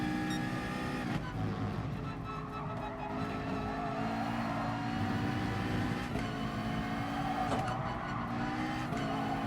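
A McLaren race car in GT Sport drives steadily with its engine droning and tyres squealing through corners, the sound staying loud and continuous under game audio throughout.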